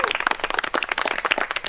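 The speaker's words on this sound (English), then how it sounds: "Big applause." Applause and clapping from a crowd at a graduation celebration, a dense, steady patter of many hands sustained throughout.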